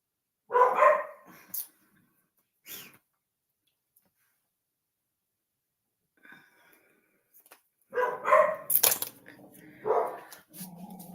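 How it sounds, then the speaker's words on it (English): Dogs barking indoors in short bursts, a few sharp barks early and a louder cluster near the end, with someone talking between them. "I'm so sorry about these dogs."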